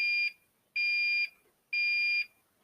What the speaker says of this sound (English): I'm going to activate an alarm real quick